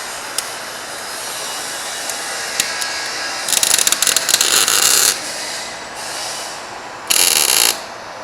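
Ratchet wrench clicking in quick bursts while tightening an ATV muffler at a muffler shop, close and sharp, two longer runs of rapid clicks with isolated ticks between.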